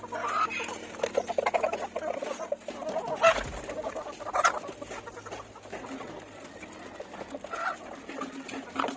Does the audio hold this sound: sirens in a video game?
no